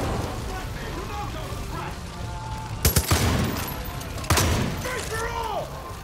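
Far Cry 5 gunshots, a few sharp cracks standing out over a busy game soundscape with a steady rumble and background voices, two distinct shot clusters near the middle.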